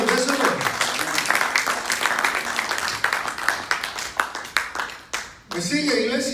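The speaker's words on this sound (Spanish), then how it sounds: "Ese aplauso al Señor, déselo." A church congregation applauds for the Lord with dense, sustained clapping that fills most of the stretch, briefly dipping near the end before swelling again, with a voice speaking over it.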